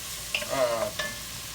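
Linguine is stirred in a pan for a Cajun spicy crawfish pasta, a faint sizzle with a couple of quick utensil scrapes and a light clink over a short moment.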